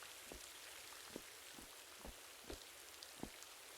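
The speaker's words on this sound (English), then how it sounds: "Oh, great, it's starting to rain." Rain falls steadily in the video game Rising World, a soft, even hiss with a few heavier drops landing at irregular intervals, quiet and without talk.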